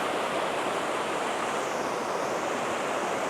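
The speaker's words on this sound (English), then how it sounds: "Hopefully you can hear me over the pounding water." Water pounds through Cataract Gorge at Launceston, heard from a bridge as a loud, continuous broadband roar of rushing water with no breaks or voices.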